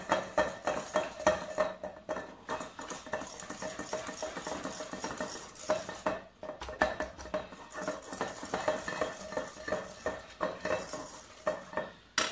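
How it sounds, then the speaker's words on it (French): Cannelé batter being mixed in a bowl produces rapid, rhythmic whisk or spoon clinks and scraping against the bowl, close and steady throughout, with no voices. "Là, on mélange, on fait un beau mélange."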